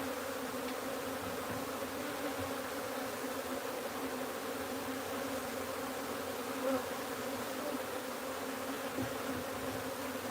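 Wild honeybees buzz in a dense, continuous drone up close while being moved into a new hive, steady and unbroken with no talking.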